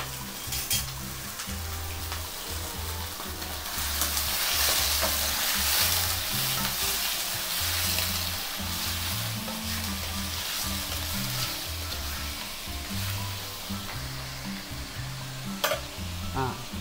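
Mutton frying in a pan with liver and fat, continuous loud sizzling and bubbling in oil, with rhythmic scraping and stirring sounds throughout and an occasional clink of a utensil.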